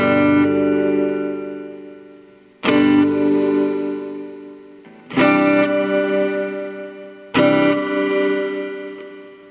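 An electric guitar strums four chords through a Mooer Shimverb reverb pedal on its room setting, each ringing out with a long, roomy tail that fades before the next strike.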